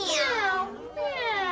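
A voice imitates a cat meowing on Sesame Street, a drawn-out, bright meow that bends in pitch with a brief dip near the middle, close and fairly loud.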